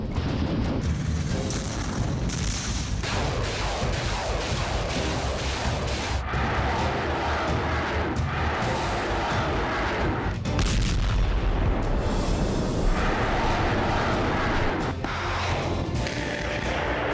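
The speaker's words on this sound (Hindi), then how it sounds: "Anti tank missile." Anti-tank missiles fire and explode amid fighting in the Russia-Ukraine war, heard as loud, continuous booming blasts and rumbling gunfire from a battlefield, with repeated heavy impacts throughout.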